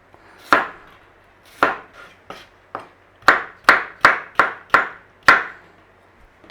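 A knife chops cucumber into cubes on a cutting board in crisp, close knocks: a few spaced strikes, then a quicker run of six or so evenly timed chops, with no talking.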